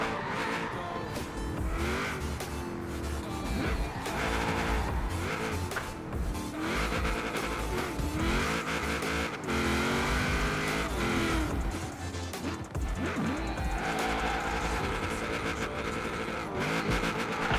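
A Lancer Evo drifts with repeated long tire squeals and skidding over a loud revving engine, rising and falling in waves, mixed with music-like tones throughout.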